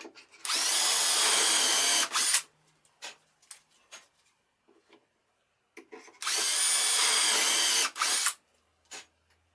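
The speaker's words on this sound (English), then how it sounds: "I drill the holes for shelf number 1 on the other side of the bookcase" A drill bores dowel holes in a bookcase board through a doweling jig, two sustained bursts of whirring close by, each lasting about two seconds, separated by quiet clicks and handling noises.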